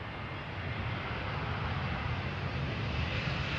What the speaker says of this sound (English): This Neo is arriving from Geneva, where it left an hour and 17 minutes ago.